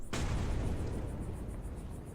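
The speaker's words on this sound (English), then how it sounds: "We're going to blow the thing up" A loud explosion bursts in the video game Rosewater, a sharp sudden blast followed by a long rumbling, crackling roar of debris that slowly fades, with no talk.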